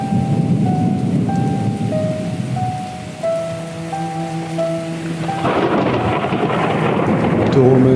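A thunderstorm with heavy rain hisses steadily throughout, with low rumbling beneath and soft melodic tones playing over the downpour.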